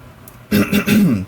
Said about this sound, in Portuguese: Eita, pigarro ruim.